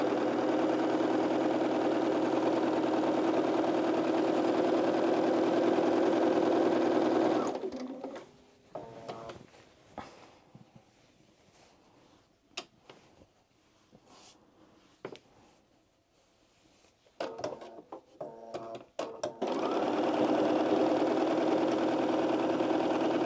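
A sewing machine stitches a silk lining to the main fabric of an oversized blazer in a steady, loud whir. It stops midway for quiet clicks and handling noises, then starts up again.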